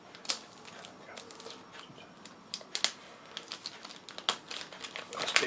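Plastic wrapping torn and crinkled open around an issue of the Warhammer Age of Sigmar Stormbringer magazine, heard as close, scattered crackles, rustles and sharp snaps in irregular bursts.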